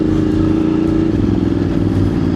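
A motorcycle engine runs close and loud on a mountain trail ride to Mount Ugo, a steady throbbing drone with a slight shift in pitch partway through.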